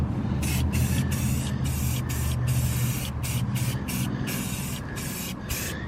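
A spray can hisses in repeated short bursts with brief gaps as paint is touched up on a Ford 7.3 Powerstroke Excursion truck's frame, close and steady.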